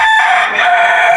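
An Indonesian rooster crows once, loud and close, a single drawn-out call with a sharp start, heard alone with no talk.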